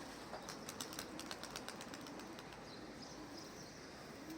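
Dumanlı tumbler pigeons on a rooftop loft give a steady, faint rustle of flapping wings mixed with soft coos, a continuous low hum of background noise beneath, with no voices.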